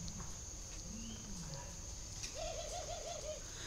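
A spotted dove coos softly in a short repeated series of hoarse notes, set against a steady background hiss and a faint, high continuous tone. Other low cooing is heard early on, and no one speaks.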